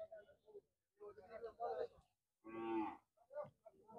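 Cattle at a busy cattle market in Sylhet, one loud close moo amid the crowd, with people talking throughout.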